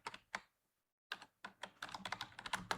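Quick bursts of typing on a computer keyboard as a folder gets renamed, close and fairly quiet, with a short pause before a steady run of keystrokes.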